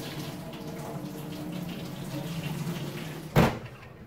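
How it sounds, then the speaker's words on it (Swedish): Boiling water is poured out of a pot while making pizza salad, a steady splashing rush that ends in a short, louder thump near the close. "Ska vi hälla ut allt vattnet."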